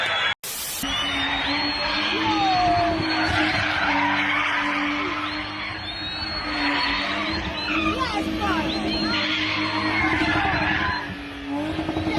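A BMW E30 325i spun in circles during a South African gangster's send-off gives long, loud tire squeals and skidding with engine noise, rising and falling in waves over crowd noise while a narrator talks.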